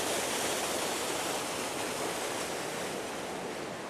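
River water rushing steadily past a small island where a big river and a smaller stream meet, a close, full broadband wash that holds constant and loud with no voices.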